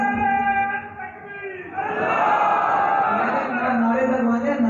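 A large crowd gathered for a religious sermon in Ghalla Mandi, Okara, shouts loud chanted slogans in unison, swelling after a quieter opening and holding as a dense, sustained roar.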